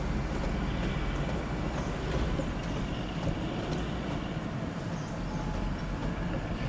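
The Him Darshan Express runs on the Kalka–Shimla Railway near the Kanoh bridge, a continuous loud rumble of rolling wagons with faint wheel clatter, steady throughout and without speech.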